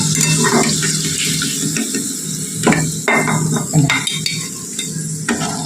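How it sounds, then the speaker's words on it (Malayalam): Sausage snacks deep fry in hot oil with a continuous bubbling sizzle, broken by a few sharp splashes and clatters nearby. No one speaks. "ഇനി നമുക്ക് അങ്ങനെ എല്ലാം അതേപോലെ വറുത്തെടുക്കാം"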